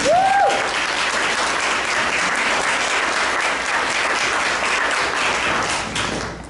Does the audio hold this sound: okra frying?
no